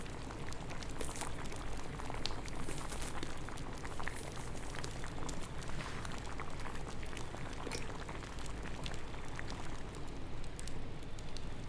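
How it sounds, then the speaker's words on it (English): An alchemical potion simmers in a pot, bubbling in a soft, steady hiss with tiny pops throughout and no pauses. "It needs to simmer until everything becomes translucent, and stirred clockwise now and then"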